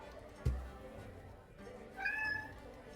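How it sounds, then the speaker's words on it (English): A house cat meows for its supper, a rising, drawn-out call near the end of the stretch, preceded by a thump and faint indoor background. "Yeah, that's my cat that's looking for supper"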